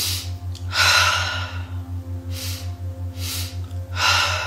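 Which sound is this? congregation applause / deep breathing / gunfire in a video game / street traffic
deep breathing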